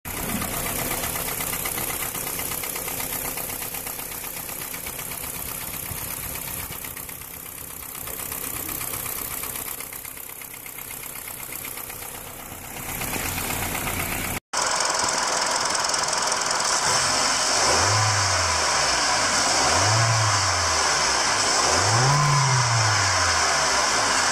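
A Hyundai NF Sonata engine with scratched pistons and cylinders runs with a persistent mechanical rattle, then after a cut comes a louder close recording with three rising revs in a row over a harsh knocking clatter.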